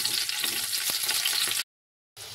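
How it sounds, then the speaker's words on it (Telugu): Pieces of bitter gourd fry in a pan on a low flame, a continuous bright sizzle with faint stirring taps, which cuts out briefly and then resumes. "సిమ్లో పెట్టుకుని అయితే ఫ్రై చేసుకుందాం."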